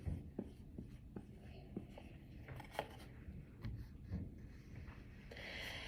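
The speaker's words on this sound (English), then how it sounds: "now watch me write the letters." A teacher writing letters during a reading lesson, soft scratching strokes and light taps of a pen or marker in a quiet room, faint and intermittent with a low background hum.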